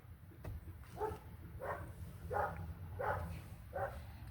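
A dog barks inside the cab of a 1996 Ford F-150 pickup on the highway: five evenly spaced, moderate barks over a steady low road-and-engine rumble.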